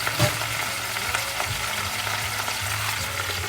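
Garlic and bok choy stir-fry sizzling steadily in a partly covered pan, a continuous frying hiss with small pops and occasional stirring scrapes, fairly close and with no one speaking.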